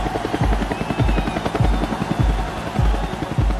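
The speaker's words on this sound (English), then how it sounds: "the military sends a helicopter to pick up Chavez." A military helicopter flies nearby, its rotor blades thumping in a fast, steady rhythm that stays loud and close throughout.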